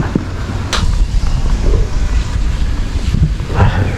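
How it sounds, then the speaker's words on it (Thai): Strong gusty wind roars across an open waterside spot during slingshot fishing from a car, a steady broadband rush with buffeting bursts against the microphone, loud throughout with no speech. "ลมอย่างแรงทุกคน"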